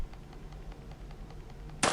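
A single game gunshot in Granny Chapter 2 with the Evil Nun mod cracks loud and sudden near the end, with a bright sustained burst after a stretch of quiet ticking ambience.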